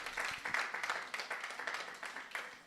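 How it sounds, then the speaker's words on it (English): An audience at an industry panel event gives a panelist a quiet, distant round of applause, a continuous patter of clapping with faint background voices. "Please a round of applause for him"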